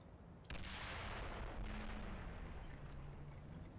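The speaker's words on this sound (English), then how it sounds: "obligatory machine gun fire on the half tracks" Sustained machine gun fire raking German half-tracks in a tank combat game, a dense continuous roar of rapid shots that bursts in abruptly and holds steady and loud throughout.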